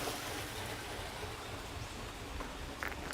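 Clean stream water flows in a steady, close, continuous rush and babble with no voices.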